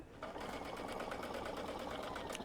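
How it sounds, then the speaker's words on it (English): A sewing machine back stitching through fabric, its needle running in a steady rapid whir with even pulsing strokes, close and continuous. "I'm going to put it all the way underneath, take the pin out, then I'll back stitch, and then forward"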